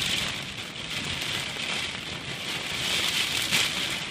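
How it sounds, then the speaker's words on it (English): Heavy rain from a windy storm falls in a steady, dense hiss close by, holding a constant wash of noise without voices. "Now it's starting again to rain."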